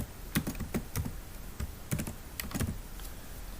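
Keys on a computer keyboard tapped in short bursts while entering a channel name, with quick clustered clicks separated by brief pauses, close and fairly quiet.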